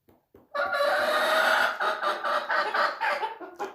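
Chickens cluck and squawk loudly at close range in a steady, busy burst of calls, with no voices.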